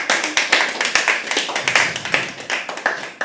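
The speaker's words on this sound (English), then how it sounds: "Can we please have a round of applause for her?" Audience at a live poetry open mic clapping in applause, a dense, steady patter of many hands close by and fairly loud, continuing throughout without speech.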